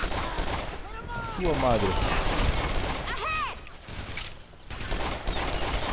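Gunfire from the video game Call of Juarez The Cartel: rapid bursts of shots and louder blasts mixed with shouted in-game voices and a commentator talking over the action.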